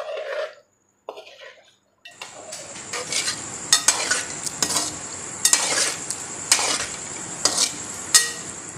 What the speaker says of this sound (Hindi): यहाँ पे अब इसको आप आराम आराम के साथ बस हिलाते जाइए।